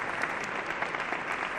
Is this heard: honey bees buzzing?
no